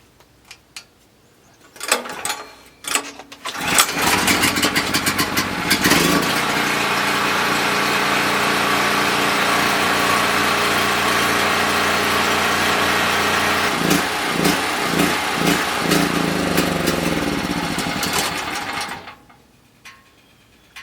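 A small gasoline engine on a fish house camper is cranked with a few pulls, then catches and runs at a steady loud idle with slight surges before cutting off near the end.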